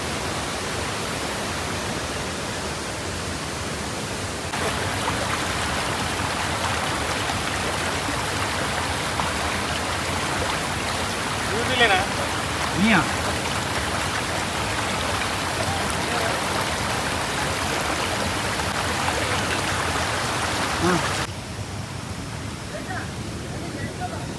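Jogigundi waterfall near Agumbe in Thirthahalli taluk, set in dense forest, with water pouring down the side of the rocks: a steady, loud broadband rush throughout, with faint voices in the background.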